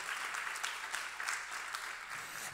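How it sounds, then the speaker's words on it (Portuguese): Church congregation applauding together, a steady dense wash of clapping with a few sharper claps standing out, moderately loud and continuous throughout without talk. "Quem crê nessa verdade, aplauda o nome do Senhor Jesus."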